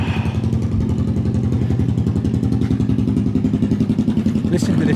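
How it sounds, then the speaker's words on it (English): Motorcycle engine rumbling on a Toronto city street, a steady loud throbbing exhaust beat close by that swells slightly, with a brief voice in the background. "Listen to this bike."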